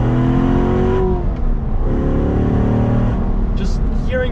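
A C7 Corvette with a manual transmission accelerating hard, its engine note climbing and dropping through a couple of gear shifts, loud and close.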